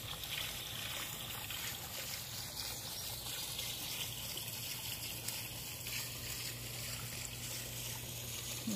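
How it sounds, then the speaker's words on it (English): A steady wash of water trickling and splashing into a pool runs continuously and evenly, fairly close and without pauses or voices. "Hearing the water falling out of here."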